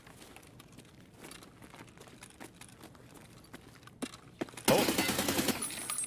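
AK-74N rifle fire in Escape from Tarkov, a dense, loud burst of automatic shots arriving suddenly near the end after quieter footsteps and scattered distant sounds, with a brief voice.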